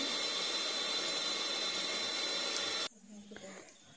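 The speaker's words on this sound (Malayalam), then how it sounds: "അടുത്തത് എഗ്ഗിൻ്റെ യെല്ലോ ബീറ്റ് ചെയ്തെടുക്കാം" Egg yolks beaten for a cake batter with an electric mixer, a loud steady whirring hiss that cuts off abruptly, followed by faint clinks of the bowl.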